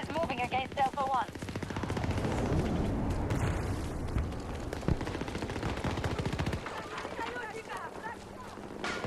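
Gunfire in Battlefield 2042: rapid bursts of automatic shots crackle over a dense battlefield mix with running footsteps, while a player's voice talks intermittently through the action.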